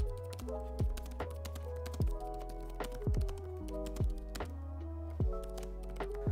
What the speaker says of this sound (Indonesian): seperti ya inilah cuplikan video suara dari keyboardnya.